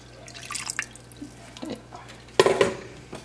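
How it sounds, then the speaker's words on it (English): Water is poured into a pot of beef for green chile, with splashing and dripping bursts, a louder pour near the end, and clinks of the pot against a quiet kitchen background. "So I'm gonna go ahead and add 4 cups of water."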